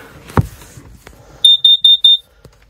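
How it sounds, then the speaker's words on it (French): A Dodge Ram truck camper's alarm goes off in four loud, shrill, evenly spaced beeps, following a sharp thump and soft handling noises nearby. "Ah ben trop tard j'ai enclenché l'alarme."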